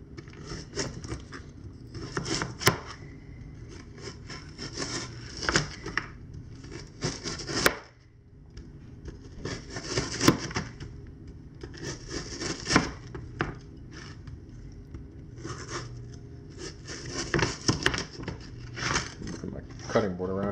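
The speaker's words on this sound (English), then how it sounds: "Alright, squid. It's kind of frozen, but we're just gonna hopefully get through it with a knife." Kitchen knife working through partly frozen squid on a cutting board, producing repeated bursts of scraping and thudding cuts that come in uneven groups with short pauses, close up and mixed with someone talking.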